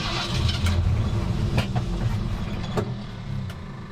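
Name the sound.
1952 Ford engine cranking, sputtering as if out of gas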